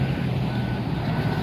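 A bus reverses at night in Indonesia, its reversing alarm beeping steadily and close by over a continuous low engine rumble, with no talk.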